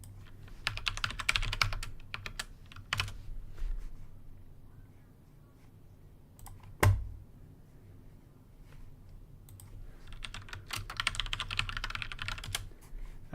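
A password is typed on a computer keyboard in quick bursts of close, crisp key clicks, separated by a quiet pause and a single sharp louder tap in the middle.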